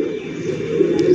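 Low, throaty cooing of a Low Flyer pigeon up close, a steady rolling murmur that swells slightly toward the end.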